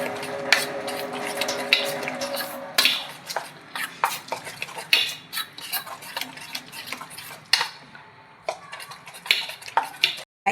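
A spoon stirs grated ginger into semolina dhokla batter in a bowl, giving close, irregular scraping and knocking strokes against the sides, some sharper clinks standing out, with no voices.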